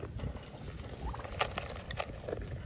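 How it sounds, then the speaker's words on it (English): Turkeys gobbling at a farm in cold weather, a scattered run of short, bright gobbles over a steady low rumble of wind or background noise, fairly distant and soft. "Let me see if these turkeys need some food."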